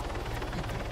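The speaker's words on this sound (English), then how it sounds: "Go away, helicopter." Helicopter in the Arma 3 military game on Altis Life, a steady rotor drone with rhythmic blade thumping that fills the moment without speech.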